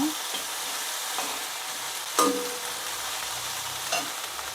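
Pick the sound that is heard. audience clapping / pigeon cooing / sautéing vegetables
sautéing vegetables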